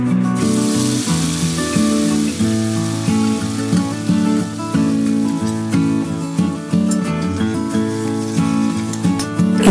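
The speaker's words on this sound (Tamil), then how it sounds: "இது எல்லாத்தோட பச்சை வாசனை போகிறது வரைக்கும் நம்ம கொஞ்சம் அதை வதக்கிக்கிறோம்" A paste of onion, garlic and ginger sautés in a pan for a moringa leaf thokku, a steady hissing sizzle running under background music throughout, with no talk.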